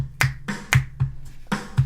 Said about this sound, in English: they're more like finger snaps